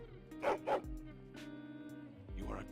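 A dog in a video game gives a couple of quick yipping barks, then softer whimpers and a later bark, heard close over low background music or ambience.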